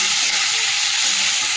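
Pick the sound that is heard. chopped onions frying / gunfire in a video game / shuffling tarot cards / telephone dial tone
chopped onions frying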